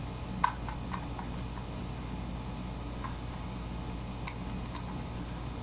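A QiDi W 2x2 Rubik's cube is turned quickly, giving a few faint, sharp plastic clicks scattered over a quiet background hiss, with no talking.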